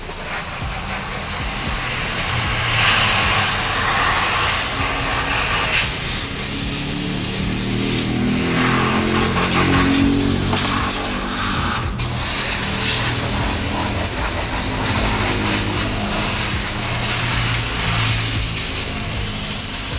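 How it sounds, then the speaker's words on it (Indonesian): A steam cleaning machine blasting steam onto a car during a cleaning, a loud, continuous close hiss that holds steady for the whole stretch with slight shifts in tone as the nozzle moves. "Ini menggunakan teknologi uap nih."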